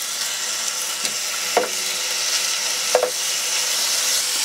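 Swordfish steak frying in a hot pan with basil and lime, a steady broadband sizzle throughout with a few soft clicks of a utensil against the pan, no voices.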